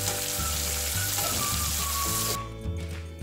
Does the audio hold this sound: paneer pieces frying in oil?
yes